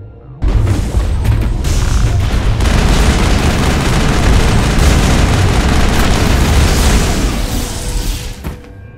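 Sustained heavy weapons fire and explosive booms from a Mass Effect battle on Noveria against Geth, a dense, loud, continuous barrage that starts abruptly and runs nearly nine seconds before cutting off.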